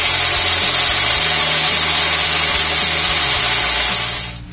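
Friction bowl sander spinning against the inside of a turned wooden bowl on a lathe, a loud steady whirring drone with continuous abrasive hiss, stopping abruptly at the end.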